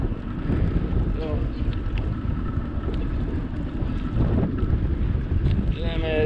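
Wind rushes over the microphone during an outdoor bike ride between Largo and Tarpon Springs, Florida, as a loud, constant buffeting roar with faint voice-like traces breaking through.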